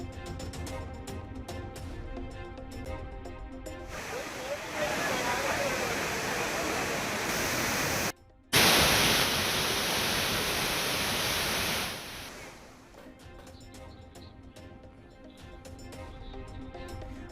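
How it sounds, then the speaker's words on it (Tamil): Floodwaters roaring over the waterfalls at Courtallam after continuous rain, a dense, steady rushing wash that holds loud for several seconds, briefly drops out, then resumes before fading to a quieter background. "தொடர் மழையால் குற்றாலத்தில் அனைத்து அருவிகளிலும் வெள்ளப்பெருக்கு."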